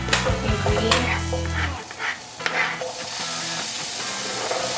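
Butter swirled around a hot pan with a spatula while cooking spaghetti sauce: scraping strokes and a soft sizzle, with a low hum in the first two seconds, then lighter clinks and scrapes.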